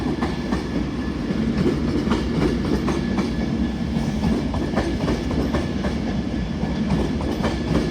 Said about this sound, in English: in now, yet again, is another Avanti West Coast Class 390 Pendolino